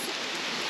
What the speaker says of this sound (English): It's raining? Yeah, it's light rain, isn't it?